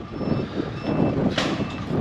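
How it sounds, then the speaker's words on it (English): A steady hazard-light warning buzzer sounds over the low rumble of an idling motorhome engine, nearby and continuous. "That's the buzzer that goes off when the hazards are"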